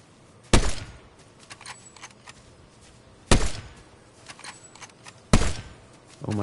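Three loud, sharp gunshots ring out in a video game, spaced a few seconds apart, each with a short decaying tail, amid quieter game ambience and faint thumps.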